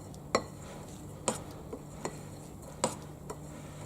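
A spatula or spoon scrapes and taps against a mixing bowl as chocolate brownie batter is cut and folded, in a handful of sharp, irregular knocks over faint room hiss.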